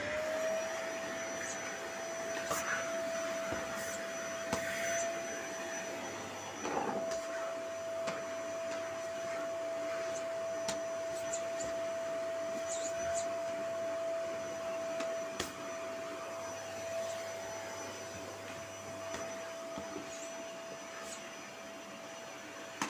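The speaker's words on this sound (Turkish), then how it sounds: "Şimdi salonu süpürüyorum." A vacuum cleaner sweeps a living room with a constant high whine and airy roar, its pitch shifting slightly as it is pushed across surfaces and bumps things now and then.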